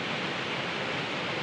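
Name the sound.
loud waterfall, Wallace Falls lower falls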